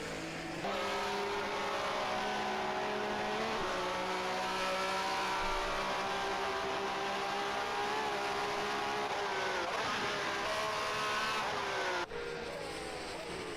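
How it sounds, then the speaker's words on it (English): A 1967 Formula One race car in a racing video game, at the Longford circuit, bouncing off its rev limiter: a steady, loud, buzzing engine drone with stuttering pitch shifts that holds for the whole stretch, then briefly cuts near the end. "That didn't sound very nice for whatever engine that was banging off the limiter"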